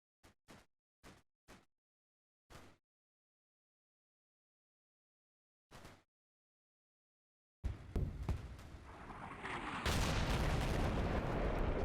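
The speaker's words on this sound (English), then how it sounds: "so I believe precision rounds came in." Artillery salvos of precision rounds in the Combat Mission video game: four short, sharp thumps and a lone later report, then a sustained loud roar of blasts and rumbling that fills the last few seconds.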